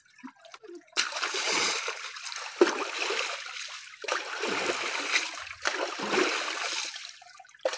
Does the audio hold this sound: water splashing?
yes